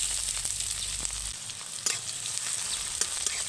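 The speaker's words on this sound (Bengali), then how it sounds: "পেঁয়াজটাকে একটু ভালো করে ভেজে নিচ্ছি" Onions fry in hot oil with white cumin and panch phoron, a steady crackling sizzle broken by a few scraping spatula strokes, close and fairly loud with no talking.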